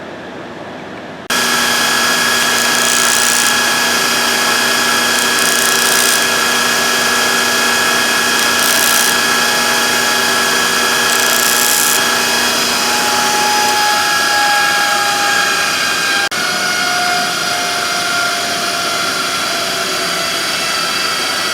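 A milling machine cuts a metal cube for a die, a loud steady whine with tonal lines after a brief quiet start, then winding down near the end as the spindle slows.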